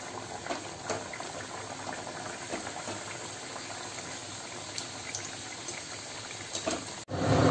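Samosas frying in hot oil, a steady close bubbling and sizzling that runs throughout and ends with a sudden louder burst.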